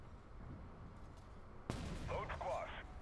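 A single loud tank cannon shot booms in a Chieftain Mk2 tank game, a sudden blast over steady engine rumble, followed by brief in-game radio chatter.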